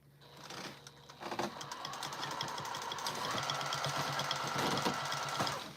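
Sewing machine stitching during free-motion quilting, with a fast, even mechanical chatter that starts after a short pause, then runs steadily and moderately close, with no talking.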